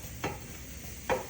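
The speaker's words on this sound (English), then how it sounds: "So I'm going to cook this tofu down now." Tofu frying and being stirred in a pan, with a steady background sizzle broken by two short scraping stirs about a second apart, close and moderately quiet.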